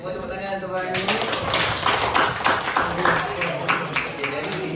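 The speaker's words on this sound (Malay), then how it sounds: "semua tepuk tangan untuk Farhani" Primary school class clapping together for a pupil during a Quran memorisation lesson, a scattered patter of small hands from close by, with voices over it.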